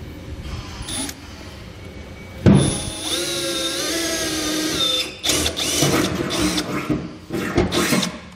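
A power drill with a pilot bit bores through a pickup truck bed for an underbed gooseneck hitch install, whirring steadily for several seconds after a sharp start, with brief pauses and renewed bursts.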